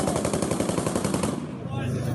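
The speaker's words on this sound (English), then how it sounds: "Ukrainians firing back with rocket-propelled grenades and machine guns." Rapid machine-gun fire crackles in a fast, even burst during street fighting in Kharkiv, lasting over a second before it trails off into echoing noise.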